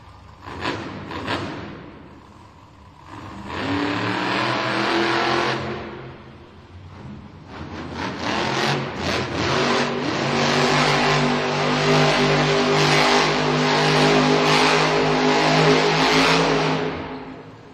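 The Jurassic Attack monster truck roars through a set of donuts at a Monster Jam arena event in Green Bay, with loud revving bursts, a brief dip, then a long sustained, surging engine howl.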